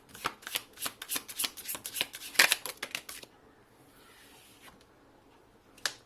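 A tarot card deck being shuffled, crisp riffling flutters in a quick uneven rhythm for about three seconds, then near quiet with a couple of faint card taps.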